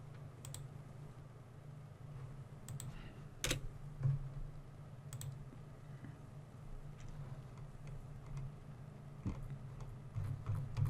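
Keys are typed on a computer keyboard. The clicks are faint and irregular, tapping in short bursts over a quiet room hum.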